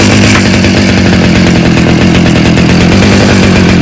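A home-serviced grass cutter's small two-stroke engine roars loudly and steadily right up close, a continuous buzzing drone with no talk over it.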